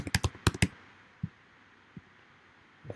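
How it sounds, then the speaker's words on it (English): Keystrokes on a computer keyboard, a quick burst of close clicky taps followed by a few isolated presses after pauses, with faint room noise between. "just type in more arbitrary information."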